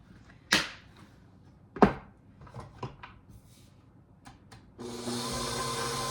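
An electric mixer creams cookie dough for Christmas cookies. A few close knocks and clatters come first, then the mixer starts and runs as a loud, steady whir to the end.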